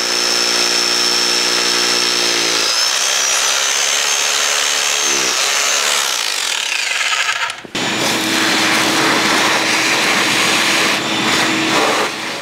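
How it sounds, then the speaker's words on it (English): A loud hammer drill with a 3/8 inch bit grinds steadily into concrete, its pitch shifting as it bores, with a brief pause before resuming at full power; no talking. "We're using a 3/8 inch drill bit and our hammer drill"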